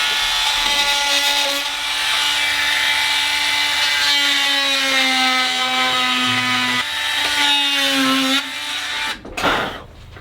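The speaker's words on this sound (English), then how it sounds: "I'm gonna take my little Dremel, clean this out, make sure we're really good." A small Dremel rotary tool whines steadily at high pitch while cleaning out a timber-frame joint in a beam, running near and loud for most of the stretch before cutting off and being handled.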